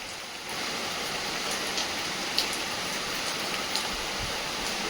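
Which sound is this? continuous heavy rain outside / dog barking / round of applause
continuous heavy rain outside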